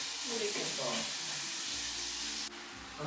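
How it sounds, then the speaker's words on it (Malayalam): Tomatoes frying in a pan for creamy Tuscan salmon, a steady soft sizzle that carries on throughout, with a brief clatter near the end. "അപ്പൊ നമ്മൾ ഈ ടൊമാറ്റോസ് ഇതിലേക്ക് ഇട്ട് കൊടുക്കാൻ പോണേ"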